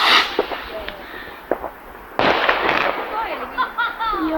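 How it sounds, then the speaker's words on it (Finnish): New Year fireworks rockets exploding outdoors, a sharp nearby bang followed by crackling and whistling bursts and scattered pops from farther away, with people talking. "Nyt näette jonkun verran raketteja"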